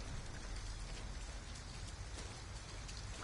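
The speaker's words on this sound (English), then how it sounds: "The rain's really pretty." Rain pours in the video game Detroit: Become Human, a steady, even wash of falling drops and spatter with no pauses. It sounds moderately soft throughout, with no voices over it.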